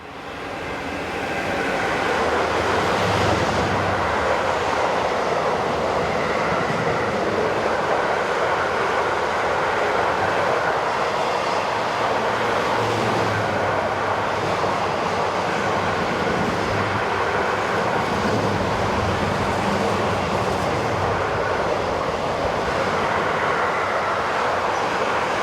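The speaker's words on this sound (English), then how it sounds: "Travelling south is 152082 on train GA 52869 from Cielzer Yard," Locomotive 152082 hauls southbound freight train GA 52869 from the yard at Hannover toward Ingolstadt, a steady, loud rolling rumble of wagons passing close by for the whole stretch, with no voices.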